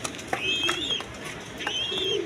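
A pair of satin pigeons coo in their loft, soft low calls rising in two separate bouts, close and moderately loud over a faint background with a few higher chirps.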